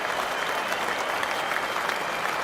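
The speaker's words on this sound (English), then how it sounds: "And the Lord's crowd are up on their feet again." A large Lord's cricket crowd applauds steadily through the whole stretch, dense and sustained clapping from the stands with no pauses and no voices rising above it.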